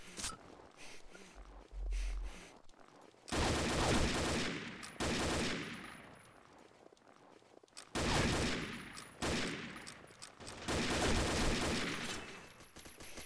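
Gunfire from the online shooter Combat Arms, including an M6 rifle: loud bursts of rapid automatic shots in several dense volleys, with brief quieter gaps between them and a faint voice underneath.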